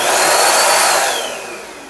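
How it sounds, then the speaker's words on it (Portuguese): A portable vacuum cleaner powered from a 12.8 V LiFePO4 52Ah battery whines up to full speed, loud and close, then its motor sound drops away as the battery protection cuts out. "Vamos ligar o aspirador aqui e vamos ver o pico aqui se passa dos 52 amperes"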